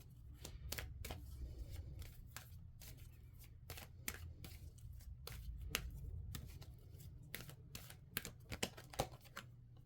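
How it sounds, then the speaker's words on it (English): A deck of oracle cards is shuffled by hand, a quiet, close series of quick riffling snaps and slides in uneven bursts over faint background hum. "Let's pull a couple oracle cards for group number 4"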